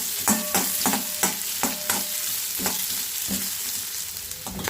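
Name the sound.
onion frying in hot oil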